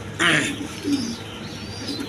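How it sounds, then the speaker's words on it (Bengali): A pigeon from a pair, one a Chuachandan male, gives a short soft coo near the start, with a quieter murmur after it over a low background hum. "দর্শক এখানে এক পেয়ার কবুতর আছে"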